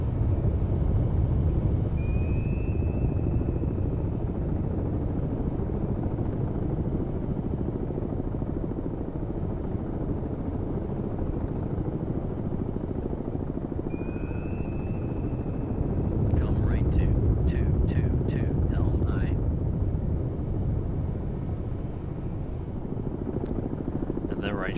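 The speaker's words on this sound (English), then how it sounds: "And the helicopter will bugger off as a result." A helicopter in the submarine video game Cold Waters keeps up a dense, constant rotor roar, with a couple of faint whistles and a cluster of short sharp clicks partway through.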